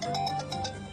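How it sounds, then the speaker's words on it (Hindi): A phone ringtone for an incoming call from a brother plays on its own, a short melodic tune of repeated bright notes ringing steadily. "भाई का फोन है।"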